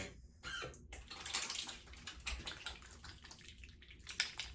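Wet squelching and sticky slapping sounds come in short irregular bursts, close up, as hair styling product is emulsified with water between hands.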